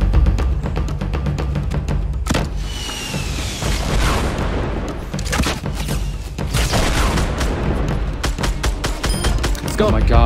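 Continuous heavy gunfire and rocket blasts in a Fortnite fight, with rapid shots, repeated booming explosions and a sustained rumble from start to finish, loud and close under intermittent talking.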